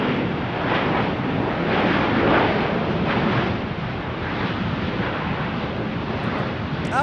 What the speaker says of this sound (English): These planes are noisy.